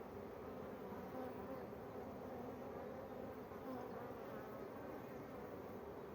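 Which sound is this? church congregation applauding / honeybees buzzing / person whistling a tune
honeybees buzzing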